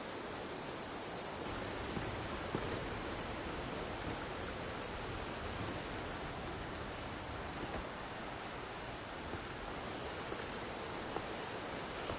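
Rain falling in the video game Wuthering Waves, a steady, even, dense hiss of downpour that continues without a break throughout.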